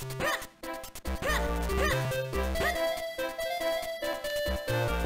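Small dog barking sounds from the Game Boy Advance game The Legend of Zelda: The Minish Cap, a few short yips in a busy, rhythmic stretch of chiptune background music, with no talking.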